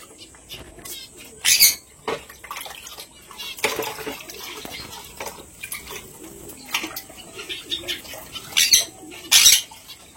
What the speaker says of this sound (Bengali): আমার যে পাখি আছে সানকনুর, তাদেরকে প্রথমে জল দিয়ে দেবো